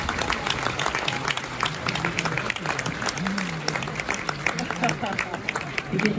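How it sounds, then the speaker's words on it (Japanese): A crowd at Yasaka Shrine in Kyoto applauds after a dedicatory dance performance, giving sustained, dense clapping with a low hum and background murmur running beneath. "今一度盛大な拍手をお願いいたします。"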